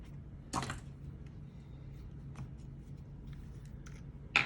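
Scissors snip through Christmas card pieces in a quiet room, a few sharp isolated cuts with paper rustles and small taps between them, close and fairly faint.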